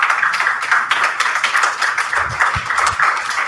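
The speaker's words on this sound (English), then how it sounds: "Give him a round of applause, certainly." Audience applause for a rabbi's presentation, a steady patter of hand claps filling a hall at moderate volume, with a few low thumps near the end.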